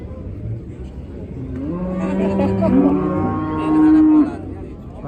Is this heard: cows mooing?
yes